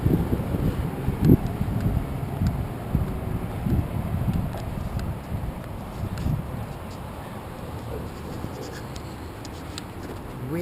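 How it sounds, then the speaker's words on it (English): Wind buffets the microphone in gusty rumbles beside a road in Washington, loud at first and easing slightly, with faint rustling behind it. "It's a very windy day."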